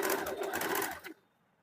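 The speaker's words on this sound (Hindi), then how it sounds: "अब पट्टी को अंदर की तरफ फोल्ड करके एक और सिलाई चला देंगे।" A sewing machine runs a quick, rhythmic stitch along a folded blouse strip, a fast close-up rattle lasting about a second before stopping abruptly.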